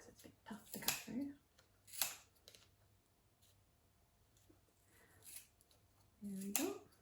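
Scissors snip through tightly wrapped yarn for a Christmas pom pom decoration, a few sharp close crunchy cuts separated by pauses, quiet and up close.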